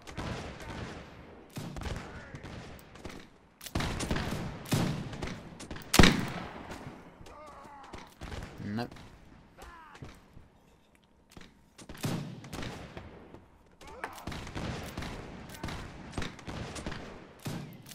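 Musket and rifle fire in the Napoleonic-era Mount&Blade L'aigle mod crackles in irregular volleys and single sharp shots, one especially loud crack standing out amid scattered bursts and brief quiet gaps.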